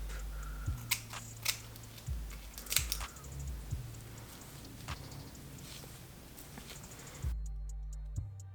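Scissors snip an earpiece opening into a blonde curly wig, with a series of close, crisp cuts at an irregular rhythm over a low steady hum.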